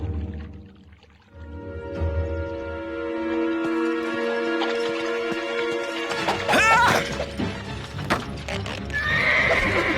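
A horse whinnies loudly with a long, wavering neigh, followed by pounding hooves and clattering impacts close by.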